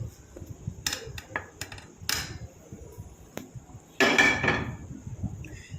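Freshly roasted powder is tipped from a pan into a small bowl, with several sharp metallic clinks and scrapes of utensil against cookware, spaced irregularly, then a louder rattling pour near the end, close by in a quiet room.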